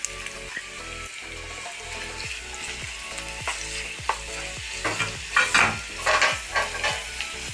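Ginger garlic paste, onion and chopped green chillies fry in a pan with a constant close sizzle, while a spatula stirs and scrapes in regular strokes that grow louder near the end.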